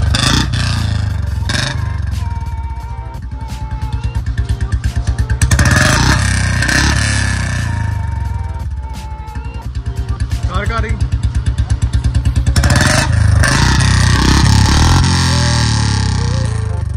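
A motorcycle fitted with an aftermarket muffler in place of the stock exhaust rumbles loudly at close range, its engine revved repeatedly in rising and falling surges with a heavy, throaty low-end pulse.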